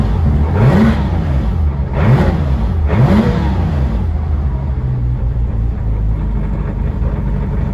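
A Porsche 997 GT3 4.0 Clubsport engine revs three times in quick pulses, then settles into a steady rumbling idle with a faint rattling chatter from its lightweight flywheel underneath.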